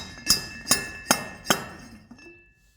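Four sharp hammer blows strike quartz rock at a steady rhythm, each a bright clinking crack with a short ring, close and loud, followed by a faint scrape as the pieces settle.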